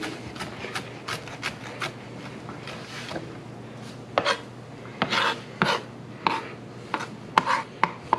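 Knife chopping parsley on a cutting board, a steady run of sharp close taps, some quick and some spaced, getting louder and more clustered toward the end, with no talk.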